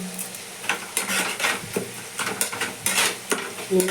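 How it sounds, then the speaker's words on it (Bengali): Steady sizzle of spices frying in a pan with salt and sugar for bitter gourd chorchori, with repeated scraping strokes of a spoon stirring, close and moderately loud, no talking. "তখন একটু মশলাটা ভাজা ভাজা হোক"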